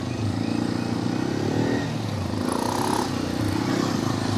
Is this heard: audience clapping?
no